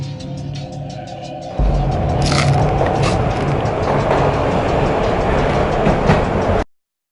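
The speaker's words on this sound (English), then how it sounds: "This was my second train ride of the night." A train ride in the video game Max Payne: a steady, loud rumble of rolling rail cars with faint clickety-clack, continuous for several seconds before cutting off abruptly.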